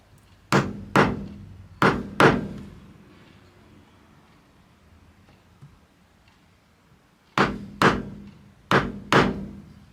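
A mallet tapping a chisel into knife lines in ash wood: two quick pairs of sharp wooden knocks, a quiet pause, then two more pairs, close and crisp.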